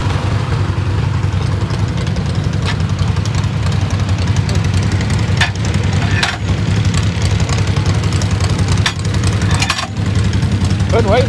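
A Cub lawn tractor engine runs steadily at a lawn tractor pull, a constant low drone heard throughout amid general crowd and outdoor noise, with voices nearby.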